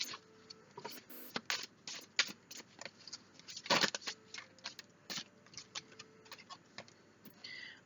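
Tarot cards shuffled close up, a run of crisp riffling clicks and taps in uneven bursts, with no voices.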